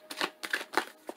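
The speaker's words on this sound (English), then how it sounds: "we're going to slide shuffle" A deck of oracle advice cards is slide shuffled in four quick, close bursts of papery riffling and sliding, with short pauses between them and no talking.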